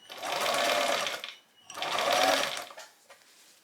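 A sewing machine stitches down a skirt waistband over arranged pleats in two steady, fairly loud runs, each lasting over a second, separated by a short pause.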